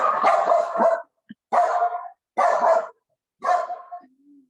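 A nearby dog gives four loud, full barks with short pauses between them, ending in a faint whine.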